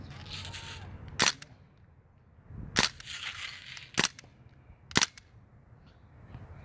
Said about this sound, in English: You always gotta shoot full auto.